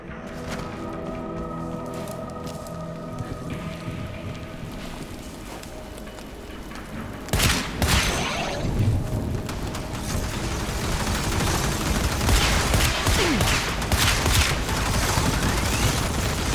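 Energy-weapon fire in the Warframe video game, a busy run of repeated shots over game ambience, growing denser and louder partway through.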